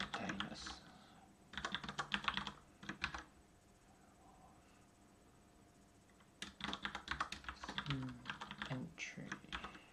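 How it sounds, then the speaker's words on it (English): Bursts of keyboard typing, clattering keys in two clusters separated by a quiet pause of a few seconds, close and fairly crisp. "We're going to be typing that a lot"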